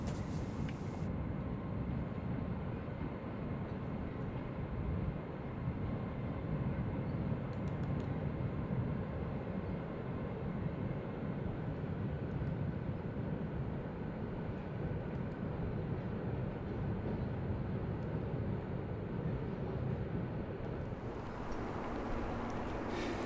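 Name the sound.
train crossing the Royal Albert Bridge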